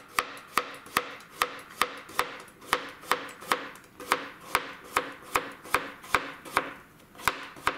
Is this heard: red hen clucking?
no